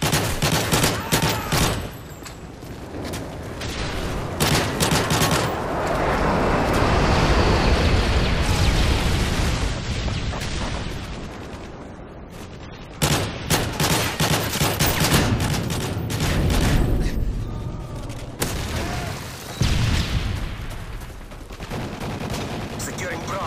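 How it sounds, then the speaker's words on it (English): Dense Modern Warfare 3 gunfire with a Predator missile strike, sustained bursts of rapid shots and heavy blasts, loud and close, easing off briefly midway before another barrage of sharp cracks returns. "Friendly Predator missile inbound."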